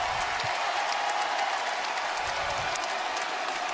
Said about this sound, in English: the crowd reacts to this gallant effort by the Atlanta Hawks